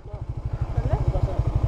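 A motorcycle engine idles with a fast, even putter at Nilgiri in Bandarban, close and steady, with a voice briefly audible over it.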